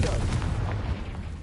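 A Confringo blasting-spell explosion in Hogwarts Legacy hits as a single deep, booming burst that rumbles briefly and fades, heard alone without talk.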